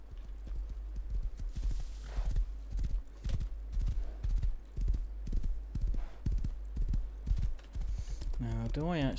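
Horse hooves clip-clopping in the survival game Rust, a steady rhythmic trot of close, distinct hoof strikes with a whinny at the end and someone talking over it.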